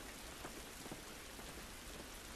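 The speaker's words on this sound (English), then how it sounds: "This rain ain't gonna do us any good" Steady rain falls throughout an outdoor scene in the video game The Last of Us Remastered, a dense, even hiss of drops on surfaces with faint scattered patters, with no voices.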